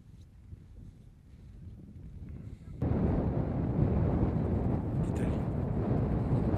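Strong wind roars against the microphone on the Col de la Lombarde mountain pass at 2350 metres in winter, a low rumble that surges suddenly louder partway through and stays heavy and buffeting to the end.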